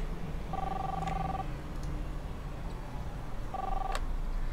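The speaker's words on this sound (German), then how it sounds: "Das Telefon." Two bursts of a telephone ringing tone, a couple of seconds apart, heard at moderate distance over a steady background hiss.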